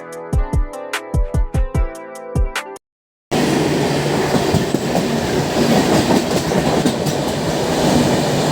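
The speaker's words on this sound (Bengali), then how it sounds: "এবার এসে ট্রেনটি দাঁড়ালো বাসতলা স্টেশনে।" An express train on the Howrah to Jhargram line runs on the rails with a loud, dense, continuous rumble and rattle after a short gap. Before that gap, a quick run of plucked or struck tonal notes sounds.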